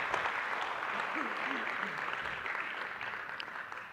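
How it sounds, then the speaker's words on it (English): Conference audience at an African markets event applauding the Deputy Governor, a fairly quiet, even patter of many hands held for a few seconds, with faint voices underneath. "I think the Deputy Governor deserves another round of applause,"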